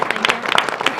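A meeting audience at a Traverse City Commission session gives City Academy graduates a quick round of applause, a brief patter of dense, close hand claps.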